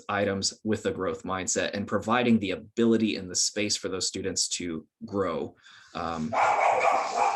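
A dog barks briefly near the end, somewhat muffled in the background, while a person keeps talking during an online panel discussion about community college open education projects.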